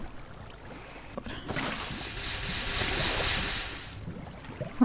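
Rushing, splashing water in Minecraft swells in for a few seconds in the middle of the clip, a broad hiss over quiet game ambience before fading out, with a soft thump at the end.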